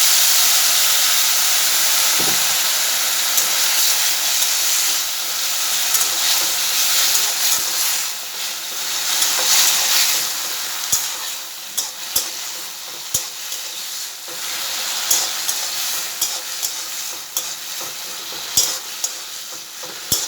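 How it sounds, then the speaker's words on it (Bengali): A little water goes into a hot pan of sour shorpa curry cooked with tamarind, producing a loud, continuous sizzle and hiss that fluctuates, with scattered sharp clicks of a utensil against the pan. "অল্প জল দিচ্ছি"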